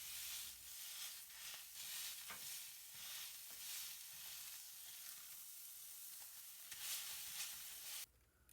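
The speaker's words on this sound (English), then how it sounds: "grab one of the balls of beef and deliberately place it on top of the onions and press it down using your spatula" A beef smash burger patty sizzles on onions on a hot griddle, a continuous loud crackling fry with scraping spatula accents, alone without talk until a sudden cut near the end.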